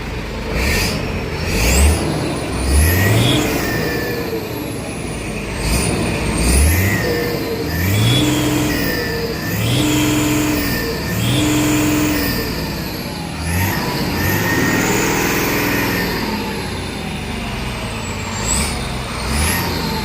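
Hino 500 truck fitted with a custom racing exhaust, revved repeatedly with loud rising and falling engine roars and whining pitch sweeps, close and powerful with air brake hisses between revs, no talk.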